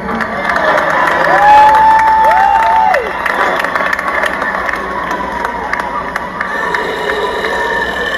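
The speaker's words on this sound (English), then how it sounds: "Give him a big round of applause as he comes to your side." A crowd cheers and claps in a steady wash of noise, with a voice briefly rising over it early on before the cheering settles.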